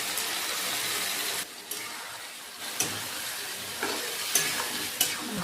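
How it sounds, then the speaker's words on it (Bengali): Spice masala and tomatoes fry and get stirred in a pan for a home-style chicken curry: a loud continuous sizzle broken by several scraping stirs of a spatula, with no voices. "মশলাটা দিয়ে দিলাম"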